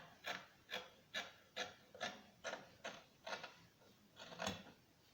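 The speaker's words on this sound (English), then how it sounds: "I'm going to first cut the back sleeve." Scissors cutting a paper back sleeve pattern, about nine evenly spaced rasping snips in a steady rhythm, close and fairly quiet with no talking.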